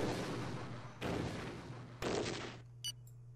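Rockets launch in a geopolitical war simulation game, three loud whooshing bursts about a second apart, each a rushing roar that cuts off, followed by a short sharp crack.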